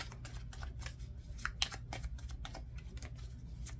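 Tarot cards shuffled for a love reading, a quiet run of crisp riffling slaps and soft papery taps at a steady, uneven rhythm, close by with no talking.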